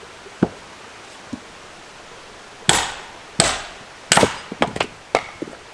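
A hammer splitting firewood at a log shelter in winter, a few faint knocks followed by a series of sharp, loud cracking strikes close by, no talking.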